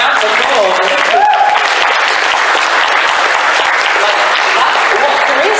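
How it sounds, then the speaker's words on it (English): Sustained applause from a convention audience after a voice actor guest's talk, a dense steady wash of many hands clapping loudly throughout, with faint voices mixed in. "round of applause"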